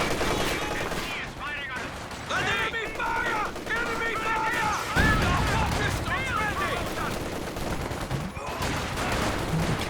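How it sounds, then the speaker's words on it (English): Bursts of machine gun fire from dual MG positions in a Company of Heroes 2 battle crackle in repeated rapid volleys mixed with other battlefield noise, under steady commentary. "And the double MGs really seem to be locking down the flanks."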